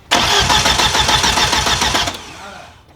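A big-turbo Audi A4 cranking on the starter without catching, a loud, rapid, rhythmic churning that runs steadily for about two seconds, then cuts off and leaves a fading mechanical tail, close up with no speech.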